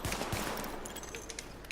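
Gunfire at highlighted targets during a weapons test in the video game The Division, a dense continuous burst of rapid shots filling the whole moment at moderate loudness with no talk over it.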